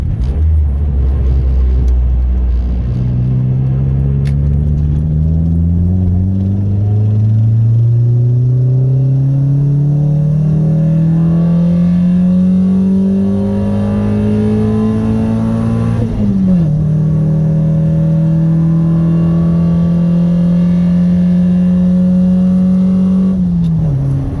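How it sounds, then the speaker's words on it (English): Car engine under wide open throttle in second gear, its loud, close drone rising steadily in pitch for about fifteen seconds, dipping briefly at a shift, then climbing again. "this is going to be the wide open throttle from second gear"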